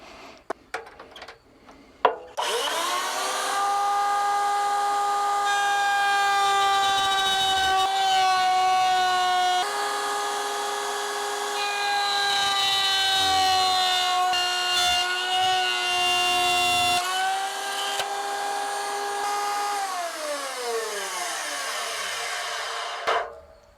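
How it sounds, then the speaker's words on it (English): A router on a router table cuts wood, making a loud, steady high-pitched whine that holds for about twenty seconds, its pitch shifting slightly as it bites into the workpiece, then winding down at the end. "Got my router table set up."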